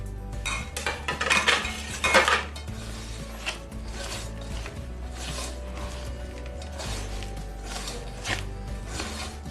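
Mushrooms mixed with masala and food colouring in a bowl for mushroom 65: soft wet rubbing and stirring with occasional clinks against the bowl, close and continuous, a few louder knocks near the start.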